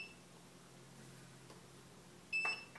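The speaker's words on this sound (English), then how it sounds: "Don't worry about the beeping, that's only because my battery's running low on this one." A single short, high low-battery beep from a Turnigy 9X radio transmitter sounds near the end over a quiet background hum.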